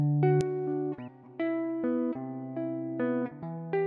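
Clean, dry virtual guitar plugin plays a slow melody of sustained single notes and double stops, each note ringing clearly with no effects.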